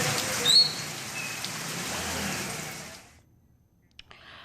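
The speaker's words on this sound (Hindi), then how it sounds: "मुरादाबाद में पिछले 2 दिन से लगातार बारिश हो रही है" Steady rain falls during days of continuous downpour in Moradabad, Uttar Pradesh, a broad hiss of drops on surfaces lasting about three seconds, then cutting to near silence with a couple of faint ticks.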